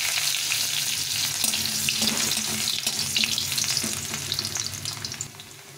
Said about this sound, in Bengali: এখানে গাজরটা দিয়ে দিলাম প্রথমে, গাজরটা একটু ভেজে নেব।